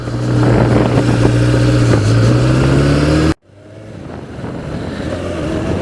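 A 1988 Yamaha FJ600 sportbike runs loud and close with a steady droning engine note. The pitch rises slightly, then it cuts out abruptly and resumes as lower, rougher road and wind noise.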